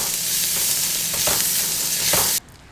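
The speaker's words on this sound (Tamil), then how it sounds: "தாளித்த பொருள்லாம் வெந்து வருது." Tempering spices and coriander stems crackle and sizzle in a hot pan with a dense, steady frying hiss and a few stirring scrapes, then the sound cuts off abruptly near the end.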